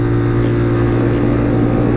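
A motorcycle engine revs hard and steadily at full throttle in a street top-speed run, a loud continuous drone with strong low harmonics and little variation.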